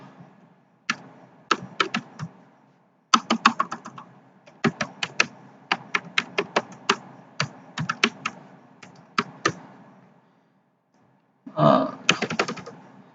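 Bursts of clicky keyboard typing, rapid keystrokes in irregular runs with brief pauses, close and clear with no talking.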